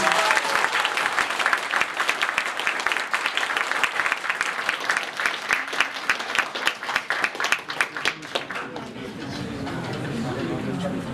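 A large audience applauds as a guest is invited on stage at an award ceremony, dense steady clapping that breaks into sharper individual claps before fading into low room noise near the end.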